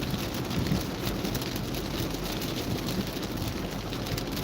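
Steady rain washing over a car on a busy street while driving, a continuous broadband patter and hiss with low road rumble underneath, fairly even and close, no talk.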